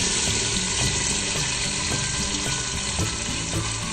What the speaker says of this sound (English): once your palm oil is nice and heated up, you want to pour your tomatoes inside.